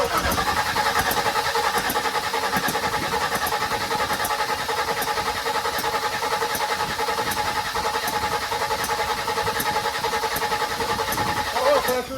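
A 1979 Chevrolet Malibu engine cranks over steadily without fuel, with a ticking, popping rhythm, loud and close, continuing without catching for the whole stretch.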